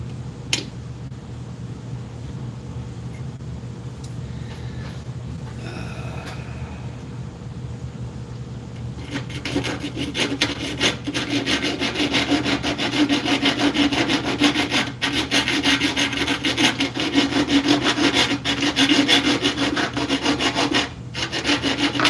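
A few seconds of quiet, then steady rasping strokes of a file scraping burrs off a 1x4 wooden lid, continuous and close for the rest of the clip.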